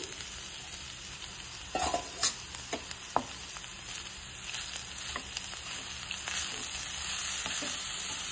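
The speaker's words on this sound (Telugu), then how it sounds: "ఇప్పుడు ఇందులో నేను సన్నగా తరిగి పెట్టుకున్న పాలకూర వేస్తున్నాను 2 కట్టలు" Finely chopped spinach frying in a pan for a potato cauliflower curry, a soft steady sizzle with a cluster of clicks and stirring knocks early on, then an even hiss, heard up close without speech.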